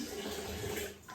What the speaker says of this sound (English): take the purple line cleaner